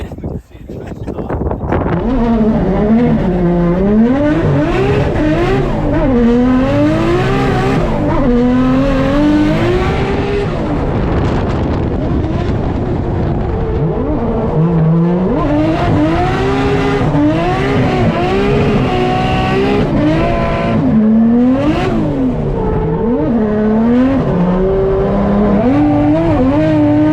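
A Nissan R33 drift car laps a track during a drift battle, its engine loudly revving up and down in rising and falling waves with tire squeal and wind buffeting throughout; a driver talks over it.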